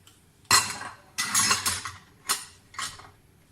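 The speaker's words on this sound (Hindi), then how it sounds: "थोड़ा स्पैचुला की मदद से और थोड़ा हाथों की मदद से इसको अच्छी तरह से मिक्स कर लें" Kachori stuffing with onions being mixed in a bowl using a spatula and hands, giving a few separate bursts of scraping and clinking, close and fairly loud, with short pauses between strokes.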